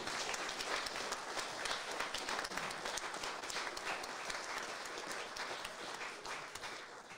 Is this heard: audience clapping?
yes